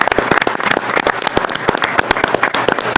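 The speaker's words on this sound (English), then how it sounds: "please join me in a round of applause in thanking the JP" A board of education meeting audience claps steadily throughout, a loud, dense patter of many hands with sharp individual slaps standing out.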